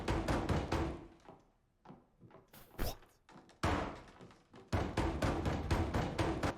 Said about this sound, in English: Oh, it's knocking on the door.